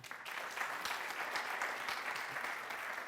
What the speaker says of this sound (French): Ça s'applaudit d'abord avant qu'il arrive.